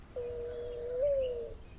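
A bird call plays from a novelty bird-call phone topped with a bird figure, a single clear whistled note that holds steady and bends slightly upward near its end, moderately loud against a quiet background.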